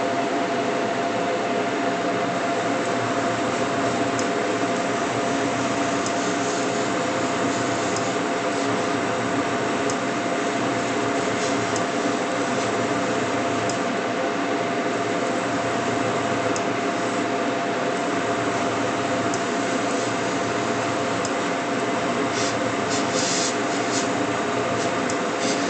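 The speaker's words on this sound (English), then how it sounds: "I'm going to put all these on the turntable that I'm spraying." A steady hiss of an airbrush spraying red Gaahleri Kaliedo paint runs without pause, close and even, over a low mechanical hum from a turntable.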